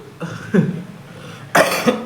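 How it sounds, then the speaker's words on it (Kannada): A person coughs three times, close by, with short pauses between the bursts and the last one the loudest. "ಹ್ಞೂ ಕೆಮ್ಮು"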